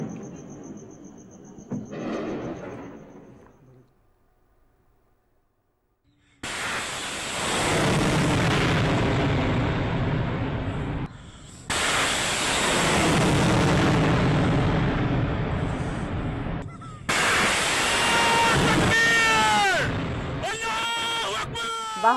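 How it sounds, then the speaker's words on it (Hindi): Loud, roaring blasts and rumbling bursts of heavy explosions during an attack, in several long waves, with distant booms and crackling, broken by brief quieter gaps; voices shout faintly in places. "हमला हुआ है और शदीद धमाके हो रहे हैं"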